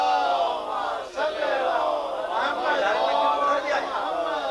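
A mosque congregation answers a preacher's call with a loud, continuous collective chant of salawat, many voices rising and falling together in a sustained swell close by.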